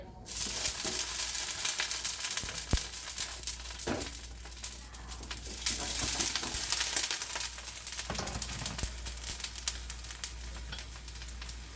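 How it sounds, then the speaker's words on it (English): Wet, poorly drained broccoli sizzles and spits loudly in hot oil, a continuous crackling fry with sharp pops, with no voices. "I did not drain my broccoli properly, and it is spitting at me."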